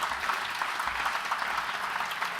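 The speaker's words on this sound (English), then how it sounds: "Please give him a round of applause." Festival audience applauding MP Tim Farron at an opening ceremony, a continuous wash of many hands clapping, fairly close and steady without talk.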